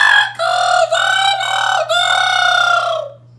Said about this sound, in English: Cock-a-doodle-doo! Cock-a-doodle-doo!" She crowed again and again.